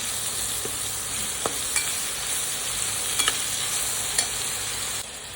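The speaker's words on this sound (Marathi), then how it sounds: "ह्याच तेलामध्ये कांदा टाकून घेऊया आपण त्या कांदा ह्याच तेलामध्ये फ्राय करून घेऊया आपण" Onions frying in oil for a spicy chicken gravy: a continuous soft hiss of sizzling with a few scattered light scrapes and taps of a spoon stirring, no voices.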